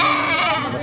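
A goat bleats once in a single drawn-out, wavering cry heard close and loud, with no talking over it.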